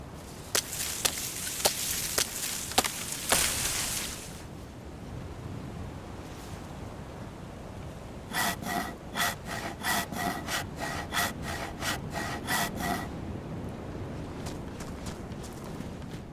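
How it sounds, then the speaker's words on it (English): Hacksaw sawing in the video game DayZ, a faint series of rhythmic rasping strokes at an even pace over a soft background, preceded by a few sharp clicks. "Let's use that hacksaw real quick."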